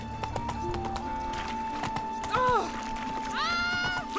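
Hooves clip-clop steadily as a horse gallops in The Witcher 3, with a couple of neighs or whinnies rising briefly over the beat and background game music.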